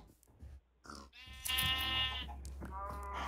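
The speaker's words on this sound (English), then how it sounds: "Here's the sheeps." Sheep bleat in the Minecraft video game, several wavering nasal calls in quick succession, close and moderately loud over a low background hum.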